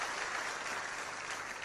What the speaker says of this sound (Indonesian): Tepuk tangan buat Tiansi, luar biasa sekali.